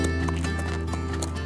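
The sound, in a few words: mustang horse walking with saddle, hoofbeats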